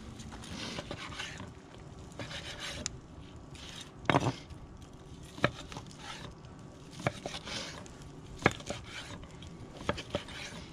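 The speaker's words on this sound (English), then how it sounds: "gonna slice our steaks. We're gonna go right down the bone here." Knife slicing bone-in steaks on a board, scattered close thuds and scrapes with a few sharper knocks against the board, spaced irregularly in a quiet setting.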